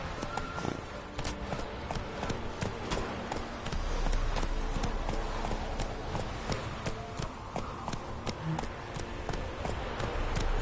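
Horse hooves clip-clop at a running pace in The Witcher 3, a steady rhythmic beat that holds close and fairly loud for the whole stretch, over a busy game soundscape.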